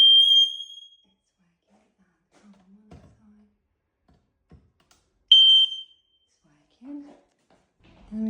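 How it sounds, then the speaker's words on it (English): A kitchen smoke alarm sounds a loud, piercing electronic beep twice, each lasting about a second with a pause between. Soft thuds and faint movement follow, and a voice speaks briefly at the end. "So let's test the smoke alarm."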